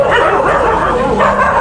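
Several dogs in a house sheltering hundreds of rescued dogs in An Giang yip and whimper close by, a dense continuous jumble of small barks and whines filling the whole moment.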